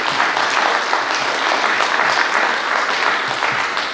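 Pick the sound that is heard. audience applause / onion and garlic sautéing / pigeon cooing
audience applause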